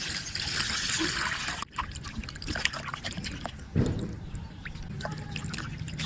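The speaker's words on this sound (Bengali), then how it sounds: "এবার আমি পরিষ্কার পানি দিয়ে সুন্দর মতো ধুয়ে নেব" Hilsa fish being rinsed in clean water: water splashes and drips steadily with a wet, trickling wash, a few louder sloshes and soft squishes close by, no talking.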